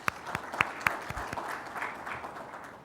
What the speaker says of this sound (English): request you to welcome them with a big applause